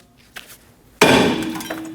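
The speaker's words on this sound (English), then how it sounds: "Using a hammer, we're going to loosen the rust weld between the rotor and the hub." A hammer strikes the rusted brake rotor of a 2012-2022 Volkswagen Passat, giving one loud, sharp metallic clang with a ringing tail after a couple of faint taps.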